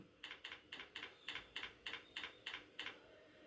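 Keys on a computer keyboard are typed in a steady run of about ten close, crisp clicks, evenly spaced, while a command is entered into a LOGO input box.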